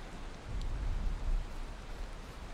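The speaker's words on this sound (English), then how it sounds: "It's fucking raining sideways." Rain falls steadily in a survival video game, a soft, continuous wash of broadband hiss with low rumbling undertones, fairly quiet and heard alone for a couple of seconds.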